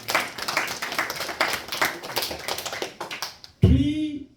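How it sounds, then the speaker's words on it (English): Audience claps in appreciation during a Bhagavad Gita class, a busy patter of hands running for several seconds before a voice cuts in at the end. "please give a round of applause to the people"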